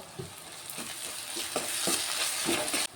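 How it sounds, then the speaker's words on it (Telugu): Onions frying in a pan with ginger garlic paste, a steady sizzle broken by periodic stirring scrapes, close and moderately loud, with no talking, for an egg curry. "ఆనియన్ ఫ్రై అవుతున్నాయి నేను ఇందులో అల్లం వెల్లుల్లి పేస్ట్ వేసుకుంటాను"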